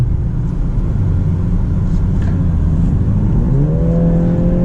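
A turbocharged BMW 330i xDrive accelerates hard on a highway, its engine note climbing steadily in pitch over a constant road and cabin rumble, loud and continuous from inside the car.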